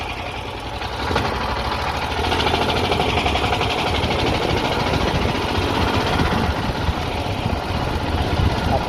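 A dune buggy engine runs steadily on a first test ride, a continuous rough, buzzing mid-pitched drone with vibration that holds at a steady level after a slight rise near the start.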